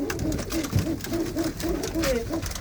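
Pigeons of a fine fancy breed coo close by in a loft, a run of soft, rhythmic repeated calls with no talking.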